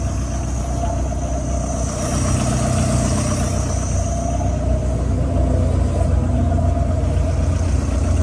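A car engine idles at an outdoor auto festival, a loud, steady low rumble that continues unbroken for the whole stretch, with a faint hiss of the surrounding crowd behind it.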